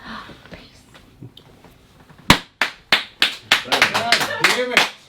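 A small group clapping at a rum tasting, starting with faint talk and sparse claps, then a burst of loud, close, irregular hand claps lasting a few seconds.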